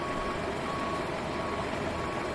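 Truck reversing beeps inside Microsoft Flight Simulator 2020 at an airport gate, a steady repeating alarm tone over a constant broadband engine and ambient drone, moderately loud and uninterrupted with no talk.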